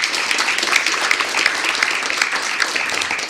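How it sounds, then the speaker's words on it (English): A symposium audience gives a steady, full round of applause for a panel moderator, dense clapping sustained evenly throughout. "I want to give a round of applause first for Professor Teresa moderating this panel."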